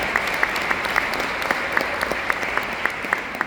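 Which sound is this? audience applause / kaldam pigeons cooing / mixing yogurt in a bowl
audience applause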